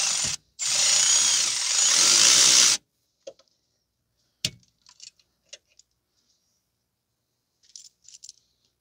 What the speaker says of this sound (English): Now I'm gonna try to use a deep socket on the top here.